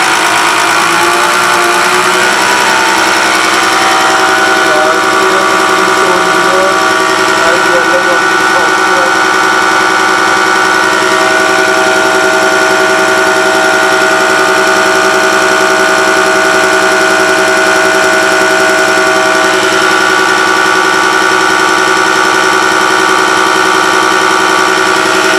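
Motor running on a dual-motor multipurpose diesel pump and common rail test bench, a loud, steady mechanical hum with sustained tonal whine that holds for the whole stretch.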